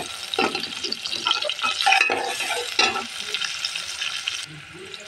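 Chopped onions frying in a pan, a close sizzle broken by several bursts of stirring and scraping against the pan, uneven and moderately loud, fading a little at the end.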